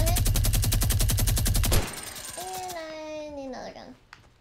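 Rapid automatic video game gunfire rattles loudly for under two seconds, then stops as a voice speaks briefly over quieter game sounds.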